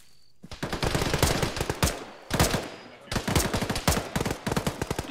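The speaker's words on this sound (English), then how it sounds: "What are you shooting at?" Gunfire in a military video game: close, loud bursts of automatic fire in quick clusters, interleaved with sharp single shots, sounding continuously from start to finish.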